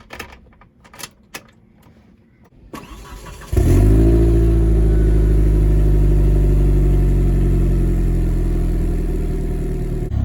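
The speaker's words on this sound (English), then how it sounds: "these are all sounds coming from a stock turbo on stock PSI" A few quiet clicks and a short whir, then a second-generation turbocharged car engine on its stock turbo at stock boost cranks and catches, settling into a loud, steady idle that fills the rest.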